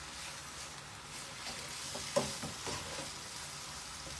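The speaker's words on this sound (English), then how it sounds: "Make sure that my sausages get cooked" Sausages sizzling in a pan with vegetables for a paprika ginger stew, a quiet steady frying hiss with a single sharp pop midway.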